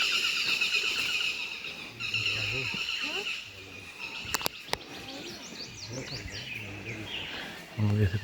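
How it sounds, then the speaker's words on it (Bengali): A peacock calls from far off across North Bengal grassland near the forest edge, its cries faint among chirping birds and insects, with a few sharp clicks midway and people talking quietly nearby. "দূরে ময়ূর ডাকছে"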